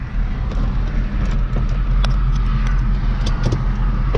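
A 1998–2004 Ford Mustang GT V8 after a P0357 ignition coil fault repair, its engine roaring loud and steady from inside the car as it pulls through first gear, with a deep sustained rumble.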